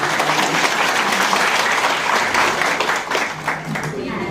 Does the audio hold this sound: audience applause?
yes